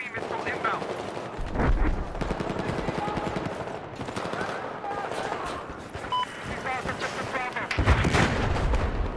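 Battlefield gameplay with an incoming enemy missile warning amid heavy gunfire and blasts: sustained rattling shots and booming impacts, loud and close, with someone talking over the battle.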